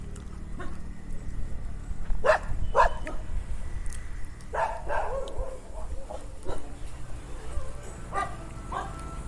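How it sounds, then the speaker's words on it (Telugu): Dogs barking and yelping around a Jain temple near Bengaluru, a few sharp barks in short bursts at moderate distance over a low background hum with some faint voices. "ఇక్కడ కుక్కలు చూడండి."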